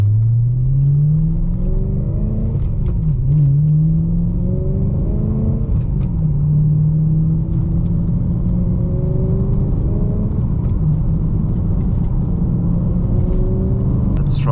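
A BMW E92 M3 engine revs and downshifts on the road, loud and close, with repeated rising sweeps and throttle blips between gear changes over a steady rumble.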